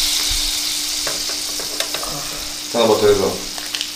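Kerrygold unsalted butter melts in a pan with a soft, steady sizzle, swelling louder near the end as it foams, with faint kitchen clatter and a brief voice speaking.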